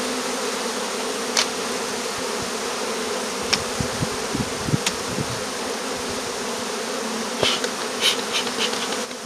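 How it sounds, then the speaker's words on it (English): Honeybees in an opened hive at the start of the season, with a winter mat being slid in: a dense, steady buzz fills the space close by, with faint knocks and taps scattered through it. "pushing your bees out of the road"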